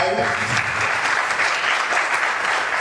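A loud burst of audience applause at a corporate rewards and recognition ceremony, dense and steady for a few seconds as someone is welcomed onto the stage.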